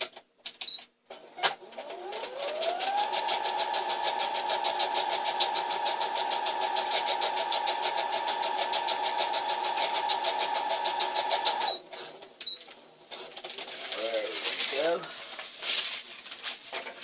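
Sewing machine stitching together pieces cut from dog food bags, running in one steady, loud, fast mechanical whir for about ten seconds, then stopping; brief handling noises before and after.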